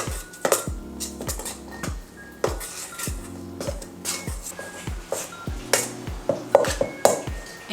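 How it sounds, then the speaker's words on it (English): Metal knife clinking and scraping against a bowl while mixing scone dough, a run of sharp irregular taps and rattles close up, with a few louder clacks toward the end and no talk. "I'm gonna mix this with the knife"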